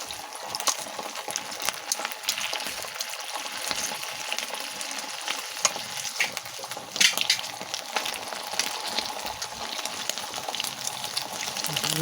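Longganisa sausage fries in a pan with a steady, dense sizzle and crackle running throughout, close and continuous, with a brief louder spit of fat midway.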